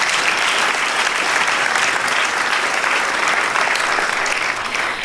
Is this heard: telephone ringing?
no